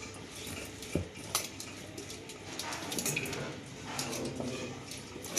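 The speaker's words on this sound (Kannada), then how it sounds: "ನಾನು ಮಯೋನೀಸ್ ಇರೋದ್ರಿಂದ ಇದನ್ನ ಹಾಕಿ ಮಿಕ್ಸ್ ಮಾಡ್ಕೋತಾ ಇದ್ದೀನಿ" A spoon mixes sandwich filling with mayonnaise in a bowl, giving irregular clinks and scrapes against the dish with soft wet stirring between them.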